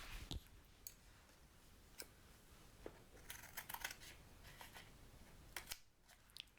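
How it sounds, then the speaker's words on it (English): Scissors cut a diagonal line through sketchbook paper, close and quiet, with a series of crisp, irregular snips and clicks over a hushed background. "I'm going to grab my scissors and I'm going to cut a diagonal line through the paper"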